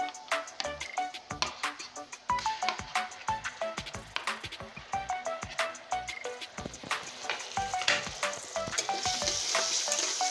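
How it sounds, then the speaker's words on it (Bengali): Onion, garlic and cumin paste sauté in a pan for an egg dish, a steady sizzle with constant scraping and stirring taps from a utensil, close and fairly loud, with no voices. "পেঁয়াজ, রসুন আর জিরে বাটা একসঙ্গে আমি কষতে থাকবো যতক্ষণ কাঁচা গন্ধ না যাবে"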